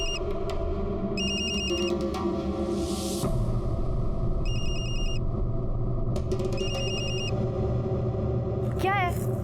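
A phone rings in short repeated bursts of electronic trills, over a constant low rumble of background noise.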